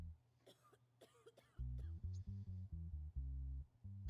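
Several short coughs from a person in a courtroom setting, a quick burst of throaty bursts early on, faint and somewhat distant, followed by louder rhythmic music.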